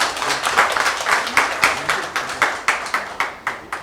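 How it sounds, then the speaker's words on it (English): Audience members at an annual rice breeding partners' meeting clap together, a dense burst of applause with sharp repeated hand claps that ripple and fade slightly toward the end, close and fairly loud. "I'd like everyone to clap to ourselves"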